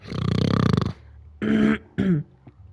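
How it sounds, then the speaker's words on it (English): A person clears their throat loudly, one long rasping push followed by two shorter, rougher bursts, close and alone. "I'm clearing my throat"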